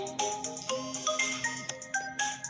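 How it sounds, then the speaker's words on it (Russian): An incoming call on a mobile phone plays a looping electronic ringtone melody of short repeating tonal notes, steady and moderately quiet, with no talk over it. "Кто-то звонит."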